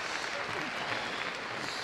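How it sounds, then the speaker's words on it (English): Arena crowd applauds after a freestyle heelwork-to-music dog routine at Crufts 2014, a steady wash of clapping heard at moderate distance, continuous and fairly even throughout. "Applause."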